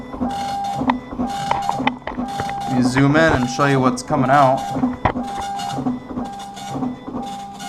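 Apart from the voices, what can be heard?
Macintosh 512k printer printing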